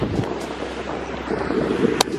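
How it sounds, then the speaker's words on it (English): Steady wind buffets the microphone in a broad, rumbling roar on a beach in Kochi, India, with faint surf-like wash underneath and a brief sharp crackle near the end. "It's super windy."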